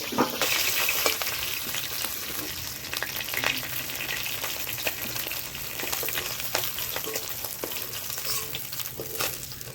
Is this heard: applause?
no